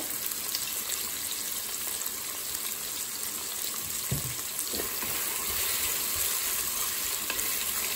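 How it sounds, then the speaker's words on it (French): Onions brown in a Cookeo multicooker, giving a steady, close hiss of frying with a continuous crackling sizzle throughout, plus a couple of brief stirring knocks partway through, and no talking. "je vais laisser dorer mes oignons"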